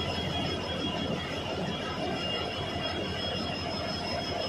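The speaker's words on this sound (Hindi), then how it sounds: "हमारा कर्नाटक संपर्क क्रांति express train start on time 1:50 में यशवंतपुर जंक्शन रेलवे स्टेशन से डिपार्चर ले रही है" The Karnataka Sampark Kranti Express pulls out of Yesvantpur Junction railway station with a steady, loud rumble of wheels and rolling stock. Faint squeal runs throughout, and no one speaks.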